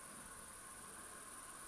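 Grasshoppers chirp in a wet, flowering summer meadow in Gironde, a steady continuous high-pitched stridulation, faint and even throughout with no voices.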